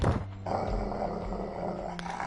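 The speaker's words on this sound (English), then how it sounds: "A large dog barks loudly and leaps on me." A large dog in the visual novel game Code: Realize growls loudly and continuously, a deep rough snarl close up with a brief burst at the start, no talk over it.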